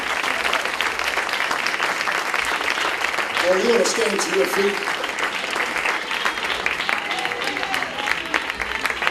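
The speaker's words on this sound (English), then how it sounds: "Let's clap our hands." A church congregation at a Pentecostal gathering claps hands steadily and loudly throughout, with a voice speaking briefly over the dense clapping.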